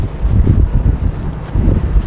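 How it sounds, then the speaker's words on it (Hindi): Strong wind buffets the microphone in loud, gusting roars during a family motorbike ride along rural roads after rain. "मेरी केक उड़ रही है, तेज हवा चल रही है"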